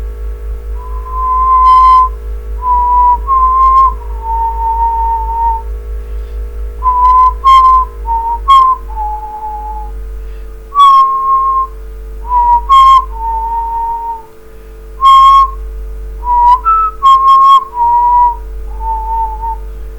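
A person whistles a playful tune in short melodic phrases with brief pauses, clear and close, over a low steady hum.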